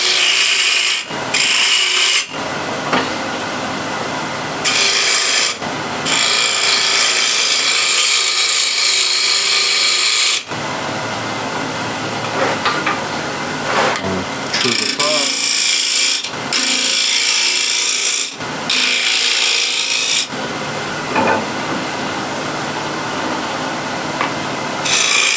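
A spindle gouge cuts a spinning wooden offcut on a lathe, producing loud, raspy shearing bursts of several seconds each, broken by short pauses where only the lathe's quieter hum continues.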